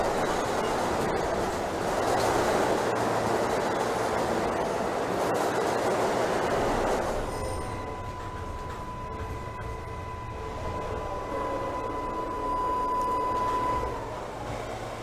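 A Queensbound J local subway train in Trainz Simulator 2012 runs with a steady rumbling roll, louder at first, then settles into a quieter hum with a faint tonal whine as it moves between stations.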